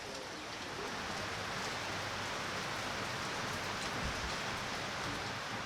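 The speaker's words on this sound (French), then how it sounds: "Alcide protège de la pluie ses créations devant son atelier." Dense, steady rainfall hisses evenly throughout, a full wash of drops with no voices.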